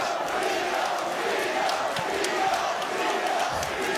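A boxing arena crowd roars steadily for Brooklyn's Teofimo Lopez during a late round against Loma, a dense, unbroken wash of cheering at a constant level throughout.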